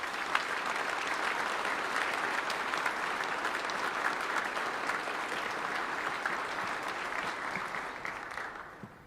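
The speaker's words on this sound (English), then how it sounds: "I'd like to acknowledge them with a round of applause" A crowd at a US Southern Command military change of command ceremony applauds steadily and loudly for several seconds before the clapping tapers off at the close.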